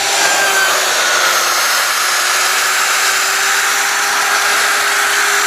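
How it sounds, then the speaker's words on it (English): A router on a Slabathor sled mills across a wood slab, a loud, constant high whine with a steady tone and no pauses or voices. "But it's still milling this really nicely."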